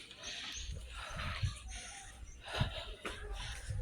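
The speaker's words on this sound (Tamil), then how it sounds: "மூச்சு வாங்குது" Heavy, labored breathing with rhythmic wheezy gasps, close to the microphone, over steady outdoor background noise at Kek Lok Si temple in Penang.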